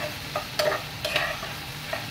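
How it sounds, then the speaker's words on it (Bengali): Okra frying in an uncovered pan is stirred with a utensil, giving a few brisk scraping strokes over a steady, close sizzle. "ঢাকনাটা খুলে নাড়া দিয়ে দিব। দেখুন ঢেঁড়সের কালারটা খুব সুন্দর, এটা আর ভাজা ভাজা হবে।"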